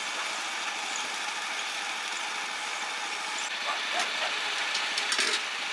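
Motorboat engine running on a river branch of Tonlé Sap lake in Cambodia, a steady, fairly faint droning hum with water hiss, continuous throughout with a few light knocks near the end.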